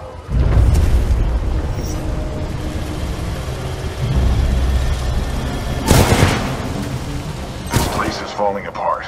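Explosions in Titanfall 2, a first-person shooter, rumble and boom loudly throughout, with two sharp blasts cracking out near the end over continuous heavy background roar.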